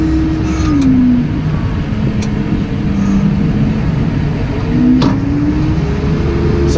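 A tractor engine runs steadily during a potato harvest in Pembrokeshire, a loud continuous drone with slight shifts in pitch and a few faint clicks and knocks, with no talking.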